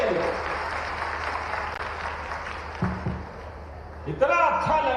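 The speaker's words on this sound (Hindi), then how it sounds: "जोरदार ताली बजाओ अपने उस बच्चे के लिए।" Audience applause fills a tribal student award ceremony in Khandwa, a dense, loud wash of clapping that continues throughout and thins toward the end, with a few louder thumps.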